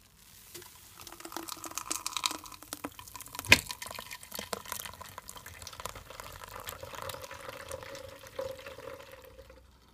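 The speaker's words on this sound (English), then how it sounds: "So here I have a strainer, so I'm just gonna strain my juice." Blended cucumber juice pours through a kitchen strainer into a jug, a faint, continuous trickle and splash with scattered drips and one brief clink, with no voices.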